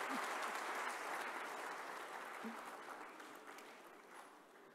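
Applause from a seated audience at the Hindustan Shikhar Samagam 2018 summit, a broad, fairly distant wash of clapping that slowly fades in strength over a few seconds.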